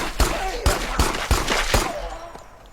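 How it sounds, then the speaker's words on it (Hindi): Several loud, sharp gunshots fired at a zombie in the survival horror game Pine Harbor, four or five close reports spaced about half a second apart with a faint voice in the background. "गोलियां तो मैंने उसके 3-4 बजाए इस बार"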